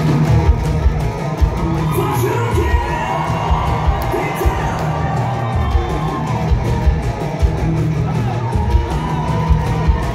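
Concert crowd at an album launch by a Russian rock band in Saint Petersburg cheers and shouts continuously, a dense roar of whoops and yells with scattered claps, fairly loud and sustained throughout.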